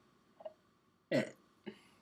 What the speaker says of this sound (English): Did you know that theoretically you could transcribe a burp?